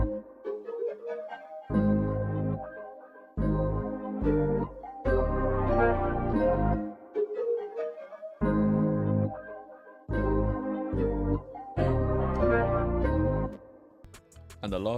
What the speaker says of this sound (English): the sub bass is from Anna 2,